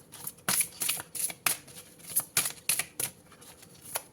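Tarot and oracle cards being shuffled by hand, a run of quick crisp riffling bursts with brief gaps between them, close and fairly quiet, with no talking.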